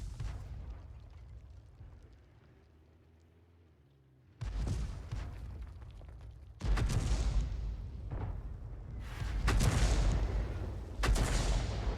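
Tank cannon shots in World of Tanks with an SU-8, as several heavy booming blasts that burst out sharply and roll away loudly, separated by quieter engine rumble.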